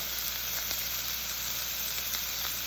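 Steady, dense sizzling of a sous vide sirloin steak searing in a hot pan, continuous and fairly close, with faint crackles popping through.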